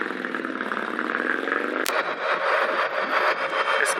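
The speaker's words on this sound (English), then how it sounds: "This cake motorbike is actually pretty loud." A Cake electric motorbike runs loudly on pavement during an evening group ride, giving a rising high-pitched motor whine for a couple of seconds, then a rough, broadband mechanical roar with a brief sharp snap.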